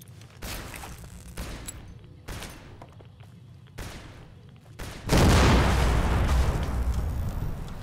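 Pulse grenades going off in Fallout: New Vegas: several sharp, separate blasts at irregular intervals, then one large, sustained burst that stays loud and rumbling until the end.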